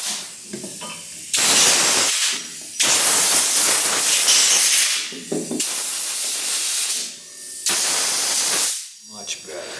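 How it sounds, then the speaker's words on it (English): Compressed air blasts through the inside of a filthy 1980s Craftsman motor during a rebuild, four long, loud hissing bursts with short gaps between them, recorded up close. "I am going to use my compressed air again just because it's so filthy in there."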